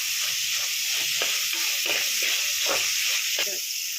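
A handful of curry leaves dropped into hot oil in a pan while cooking Kerala-style karimeen fish molly, giving a loud, steady hiss and sizzle with faint stirring scrapes throughout.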